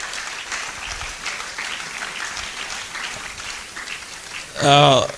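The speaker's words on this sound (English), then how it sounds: "I think my colleagues in future deserve a resounding round of applause, and shall we give it to them?" Audience applause at a pharmacy white coat ceremony, a broad crowd wash of clapping running steadily under the hall's ambience, with a loud tonal burst near the end.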